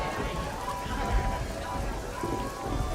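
Steady rain patters on a surface with a dense, continuous hiss and scattered low thumps, fairly close and unbroken throughout.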